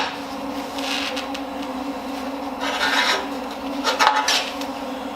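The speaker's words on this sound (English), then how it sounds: "I gotta cut that bevel back" A bevel is cut on a steel furnace firebox part with a close, rasping, gritty grind over a steady background hum. It swells in two louder bursts toward the end.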